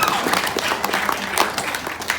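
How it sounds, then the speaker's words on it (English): Wedding guests at a father's wedding clap steadily through a best man speech, a dense and fairly loud patter of hands filling the room for a couple of seconds with no talking over it. "So round of applause for them, please."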